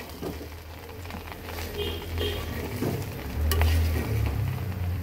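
Pulao rice is stirred in a pot, making a close, continuous soft sizzle and scraping that grows slightly louder toward the end, with a low rumbling underneath.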